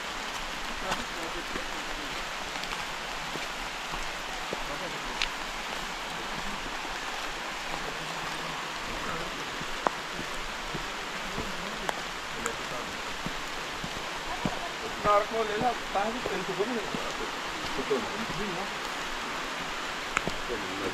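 Steady broadband roar of a waterfall in the rain, rushing water continuous and fairly loud throughout, a voice briefly audible over it.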